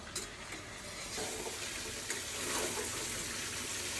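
Meat sizzles and fries steadily in a hot pan while being stirred during kosha-style sautéing, a continuous close crackle with occasional scraping, no talking.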